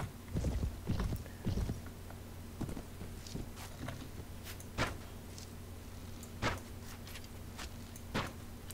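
Horse hooves clip-clop in the medieval game Prophesy of Pendor during a castle siege, a hum beneath irregular hoof clatter and scattered sharp thuds and clinks, moderately faint, no voices.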